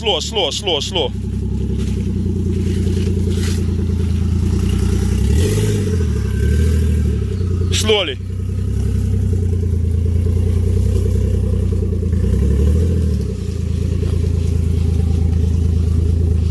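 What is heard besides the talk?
Lexus GS300 1JZ stock turbo engine driving without exhaust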